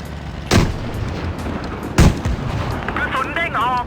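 Tank cannons firing in the World of Tanks video game produce two heavy, booming shots about a second and a half apart, each with a rumbling tail, while a person talks in the background.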